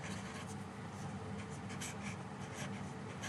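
A pen scratches across paper while a math problem is worked out by hand, a steady close scribbling texture with repeated short strokes over a constant background hiss, no talking.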